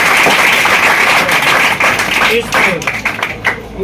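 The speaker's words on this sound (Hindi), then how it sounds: "इसके लिए ताली होनी चाहिए" A classroom of students claps for a correct answer in a physics lesson, a loud steady patter of many hands that thins toward the end, with a voice speaking briefly over it.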